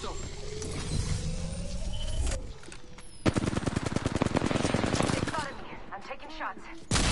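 Rapid machine-gun bursts from a PS4 shooter game, a sustained rattling volley in the middle with other gunfire and effects around it, while a player talks over the action.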